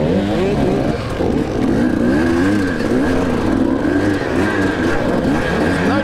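A bunch of enduro motorbikes ride bunched together in the Longtom Enduro race in South Africa. A close, continuous engine drone rises and falls with revving and throttle changes, loud throughout.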